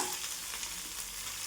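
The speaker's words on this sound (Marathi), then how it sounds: "हिरवी मिरचीचं प्रमाण तुमच्या आवडीनुसार ते पण आपल्याला छान भाजून घ्यायचं" Green chilies fry in hot oil for soya pulao, making a quiet, even, continuous sizzle with no voices.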